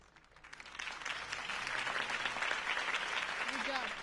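A crowd applauds a campaign speech for Harvey Dent, the clapping swelling from a few hands into a dense, sustained ovation with a voice briefly audible underneath.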